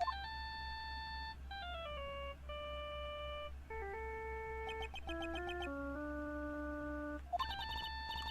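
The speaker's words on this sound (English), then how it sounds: "All of a sudden, the phone began to ring." A cell phone ringtone from the Phoenix Wright: Justice For All video game plays as a chiptune melody of bright stepped electronic beeps, repeating phrases over a low steady hum.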